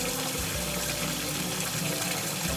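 Bitter melon rinsed under a running kitchen tap, a steady, full rush of water that stays loud and unbroken throughout with no voices.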